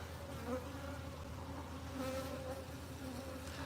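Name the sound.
honey bees buzzing at a flow hive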